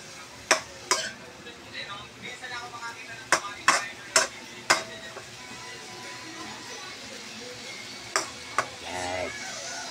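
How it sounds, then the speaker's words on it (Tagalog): Sarsiado galunggong fish cooking in a pan, with scattered sharp utensil clinks and scrapes from stirring over a soft, steady background sizzle; no voices. "Sarsyado tayo ng galunggong guys."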